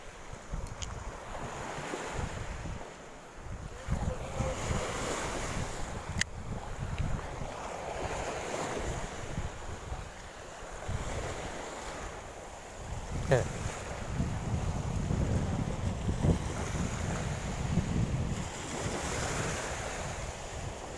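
Strong wind and waves at sea off Atimonan, Quezon, heard from a fishing boat: a continuous rough rush of gusts buffeting the microphone over the deep churn and slap of surf, with no break.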